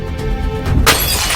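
A window pane struck with a heavy object such as a fire extinguisher gives way in one sharp, bright shatter after a few dull knocks, close and loud, with glass fragments spraying at the end.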